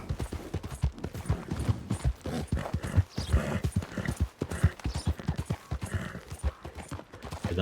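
Horse hooves in Red Dead Redemption 2 pounding out a fast, rhythmic clip-clop of galloping, close and steady throughout with no talk.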